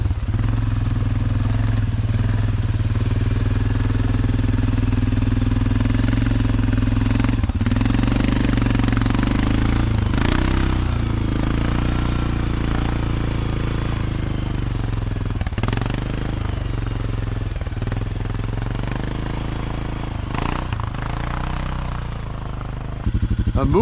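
A vehicle engine runs while breaking a trail through fresh snow in winter woods, a loud, close, rough mechanical drone with rattling clatter that continues without a break, rising and dipping slightly in effort.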